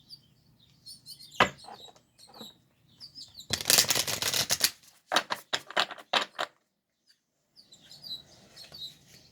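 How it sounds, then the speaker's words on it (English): A small finch chirps outdoors in short, sharp tweets and quick bursts, fairly faint and scattered across the quiet, with a louder cluster of clicky notes in the middle. "Can you hear that little finch out there?"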